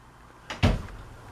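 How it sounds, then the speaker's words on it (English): A single door swung shut indoors, a short soft swish followed by a solid thud, with quiet room tone after. "Close the door."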